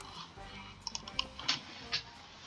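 Mouse clicks while playing the City Bus Manager game: a handful of sharp, quiet clicks, irregularly spaced and close by, over faint room noise with no talk.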